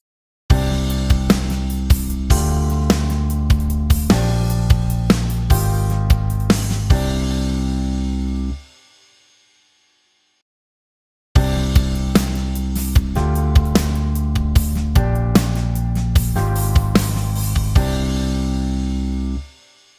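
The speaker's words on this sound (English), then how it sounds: "What you heard was the drum part following the start of each note subdivision grouping" Drum patterns in an uneven, lopsided odd-time meter, hits following the start of each note subdivision grouping, punchy with accents, stopping abruptly for a few seconds of silence before a second pattern begins.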